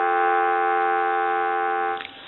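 Steady dial tone from a Western Electric three-slot payphone sounds close and clear for about two seconds, then cuts off with a faint click.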